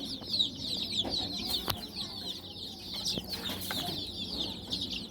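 A group of one-day-old desi village chicks peep constantly in high, rapid chirps, close and steady, with some soft knocks underneath and no talk.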